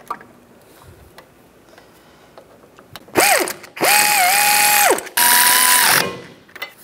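Ratchet wrench tightening a rear brake caliper bracket bolt on a 2007-2010 Mini Cooper: three loud, close bursts of rapid clicking, each lasting about a second, with quiet between them.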